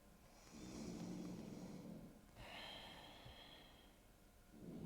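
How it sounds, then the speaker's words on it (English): A dog snores softly somewhere in a quiet room, with two long drawn-out breaths and another starting at the end, low and faint. "the weird sound, maybe in case you are hearing something, is just my dog snoring"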